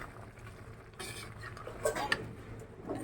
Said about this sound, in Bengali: এখন এটাকে একটু নাড়াচাড়া করতে হবে